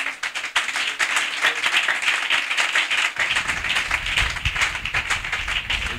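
A church congregation claps and cheers together, dense and sustained applause filling the room for the whole six seconds at an even, loud level.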